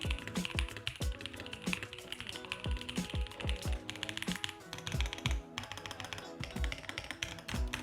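Rapid clacky keystrokes on a $500 mechanical gaming keyboard, close up, with uneven bursts and some heavier thocky presses throughout.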